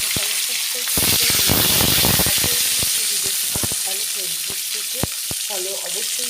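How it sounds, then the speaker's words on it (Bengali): Katla fish fillets rubbed with salt and turmeric frying in hot oil, a loud continuous sizzle with repeated sharp crackles and pops, busiest early on. "এই যে মাছ ভাজাও আমি বসিয়ে দিয়েছি"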